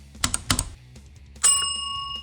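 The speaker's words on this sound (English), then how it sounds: "ring the notification bell." A bright notification bell rings once with a clean ding that rings on and decays, just after a few soft keyboard-like taps, with no talk.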